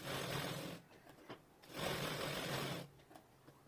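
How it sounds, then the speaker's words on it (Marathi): A sewing machine runs in two close bursts of steady stitching, putting a double line of stitches along a fabric strip, with a short pause between the runs and no talk. "इथे आपल्याला डबल शिलाई मारायची आहे"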